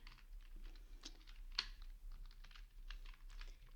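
Soft, rapid keystrokes on a computer keyboard while coding a web form, a close and quiet run of clicks in uneven bursts with one sharper tap midway, over a low background hum and no talking.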